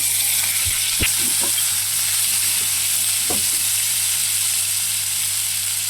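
Small potato and carrot pieces frying in a pan with tempering spices, a steady close sizzle with a few sharp clinks and stirring scrapes scattered through.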